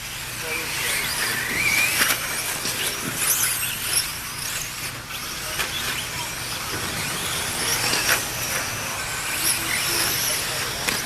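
4wd short course RC trucks race on the dirt track at River Rat Raceway during a summer shootout main event, their high-pitched electric motor whines rising and falling as they pass, with an announcer talking over the action.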